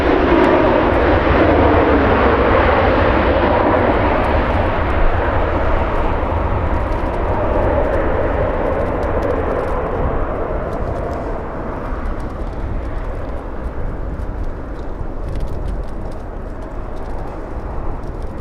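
A Southwest Boeing 737 lands at LAX, its jet engines roaring loud and close before the noise gradually fades as the plane passes.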